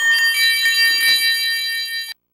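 Tickety's bells ring in the Blue's Clues PS1 video game: a bright, steady shimmer of high metallic chiming that lasts about two seconds and then cuts off abruptly.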